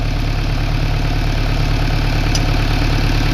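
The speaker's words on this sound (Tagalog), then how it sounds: "Lakas na makina yan." A steady engine idles with a rhythmic low chugging, close and constant throughout, no voices.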